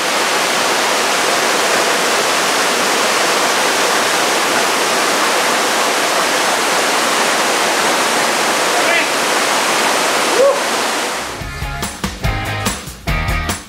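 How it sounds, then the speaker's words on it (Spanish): El Chorro waterfall roars as a loud, steady rush of falling water, continuous broadband noise dominating the scene before handling bumps and rustling noises break in near the end. "Mira esas caídas,"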